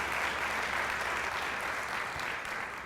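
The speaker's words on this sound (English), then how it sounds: "You need to give yourself a round of applause." Audience applause at a scholarship partners breakfast, a steady wash of many hands clapping throughout, fairly faint and distant, tapering slightly at the end.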